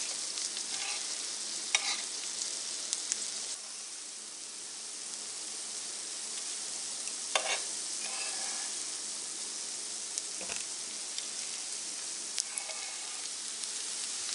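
Zucchini fritters sizzle steadily in a pan of hot oil, a continuous close hiss broken by occasional louder crackles and stirring scrapes.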